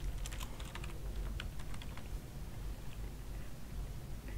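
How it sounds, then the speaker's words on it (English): Computer keyboard keys typed in quick bursts to enter a password, light clicking clusters in the first two seconds then thinning out over a steady low background hum, fairly quiet and close. "I will go ahead and type in a password. And then you'll want to retype in the password."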